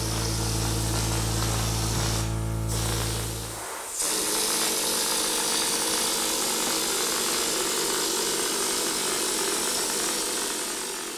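Spray equipment applies casting blend into an outdoor tabletop mold base, giving a steady loud hissing rush with a low machine hum that cuts out partway, then continuous broadband spray noise.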